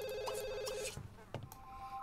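Telephone ringing in The Sims 2 video game, a repeating electronic ringtone tone heard clearly for most of the clip before stopping, with brief soft game sounds afterward.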